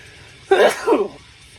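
A single sneeze bursts out close by, a sharp intake-like onset followed by a breathy second burst, then quiet.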